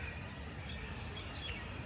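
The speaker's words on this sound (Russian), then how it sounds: "И услышать попугаев" Parrots call outdoors in Istanbul, a continuous chatter of high chirps and squawks heard at moderate distance over a steady outdoor background.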